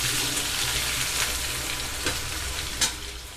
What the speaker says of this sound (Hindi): डालकर अच्छे से इसको फ्राई करेंगे लाल होने तक।